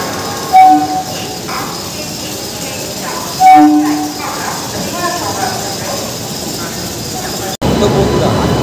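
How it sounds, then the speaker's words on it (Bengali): Howrah–Haldia galloping local train at platform 10 of Howrah station, with steady rumbling station and rail noise throughout, two short sharp horn blasts near the start and middle, and a louder burst of clatter at the end. "হাওড়া হলদিয়া গ্যালোপিং লোকাল আজকে ছাড়ছে হাওড়া স্টেশনের 10 নম্বর প্ল্যাটফর্ম দিয়ে।"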